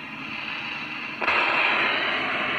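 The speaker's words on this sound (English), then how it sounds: "as you hear the noise on the radio" Radio static picking up the field of a self-oscillating Rodin coil: a steady hiss that jumps abruptly louder and brighter partway through and then holds as a dense, continuous buzz.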